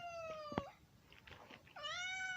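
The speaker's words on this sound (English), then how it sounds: "y'all just gonna have to hear Kiwi meow in the background." Kiwi, a pet cat, meows twice nearby in a quiet room: first a short, clear call, then after a pause a longer, rising meow.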